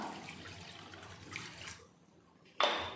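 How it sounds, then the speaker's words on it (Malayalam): Water splashing and pouring into a small iron pan, then a brief pause before a louder, bright rush of pouring water near the end. "ഒരു ചെറിയ ഇരുമ്പ് കടായി എടുത്തിട്ട് അതിനകത്തേക്ക് കുറച്ച് വെള്ളം ഒഴിച്ചു കൊടുക്കുക"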